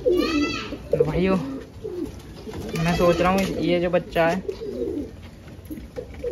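Pigeons coo in soft, repeated low calls as they peck at grain, close by and mixed with someone talking over them.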